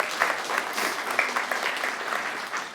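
Brief, lively applause from a conference audience at a developer tech talk, crisp individual claps audible in a moderate-sized crowd, fairly close and even for the whole stretch.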